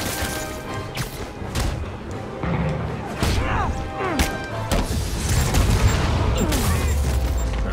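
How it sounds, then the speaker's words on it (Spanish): Rockets fired by enemies in Marvel's Spider-Man on PS4, with repeated whooshes, sharp bangs and crashing impacts in bursts over game music, while someone comments in Spanish. "Pero bueno, me están tirando cohetes."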